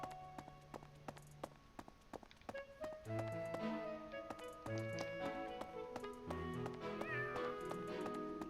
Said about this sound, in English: What's up with the cats? Cats and owls in this game.